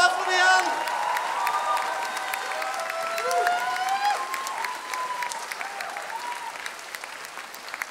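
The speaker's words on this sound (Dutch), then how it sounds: "Applaus voor Dian!" An audience at an amateur musical show applauds the conductor, steady crowd clapping with a few whoops and cheers, while sustained tonal voices or instruments ring over it near the start before the clapping carries on alone.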